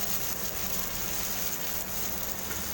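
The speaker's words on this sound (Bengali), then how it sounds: "এবার টমেটোটাকেও ভালো করে ভেজে নেব।" Tomato and green chilli frying with onion in a pan for a pomfret fish dish, giving a steady, even hiss of sizzling oil throughout, close and moderately quiet, with no talking.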